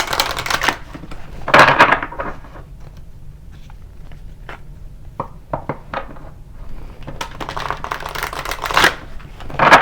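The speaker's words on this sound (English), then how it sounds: "every time I shuffle this deck, it's been blowing these little things off the table" Tarot deck being shuffled on a table at close range, with bursts of riffling cards at the start and end and lighter taps and card snaps between, no talk.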